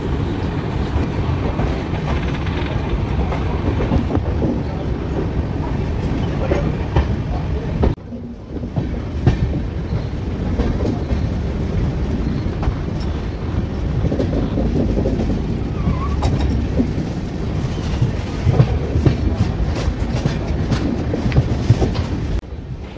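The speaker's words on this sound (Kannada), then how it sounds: "ಸೊ ಟ್ರೈನ್ ಡಿಪಾರ್ಚರ್ ಆಗಿದೆ." The Shivamogga Town Intercity Express pulls away on its Bengaluru to Shivamogga run. A loud, continuous rumble of wheels on rails carries a rhythmic clickety-clack and rattling carriages throughout, with a brief dip partway through.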